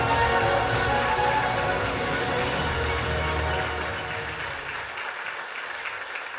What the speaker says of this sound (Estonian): Teeme suure aplausi Karl Uus.